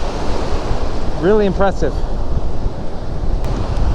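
Gusty wind buffets the microphone over steady surf breaking on a beach during a windy fishing session, a constant broadband wash with a brief spoken remark riding on top.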